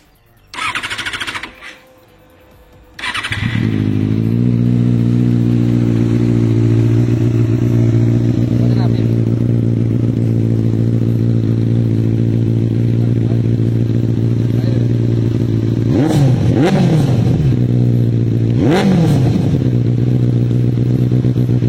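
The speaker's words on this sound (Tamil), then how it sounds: "லாஸ்ட்டாக வந்து இந்த வண்டியோட எக்ஸாஸ்ட் போட்டிருக்கேன். ஸோ அந்த எக்ஸாஸ்டோட வந்து சவுண்டுக்கு இப்போ கேட்கலாம் வாங்க." Benelli TNT 600i motorcycle with an aftermarket exhaust, a few quiet clicks and then a loud start into a deep steady idle, with two quick throttle blips near the end, close up.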